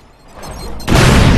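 A grenade goes off in a multiplayer video game: a rising rumble followed by a loud, sudden blast that stays at full strength to the end, with no voices heard.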